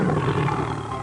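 A tiger roars once in a short, loud, rumbling burst in a cartoon animal game, then fades slightly toward the end.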